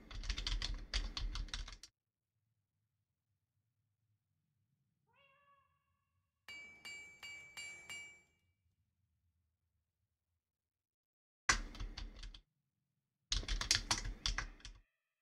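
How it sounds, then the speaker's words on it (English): Typing on a computer keyboard in bursts, with quick clustered keystrokes near the start and again toward the end, separated by quiet gaps, a brief meow and a stretch of meowing from a cat partway through. "even though I'm typing the same thing over and over again"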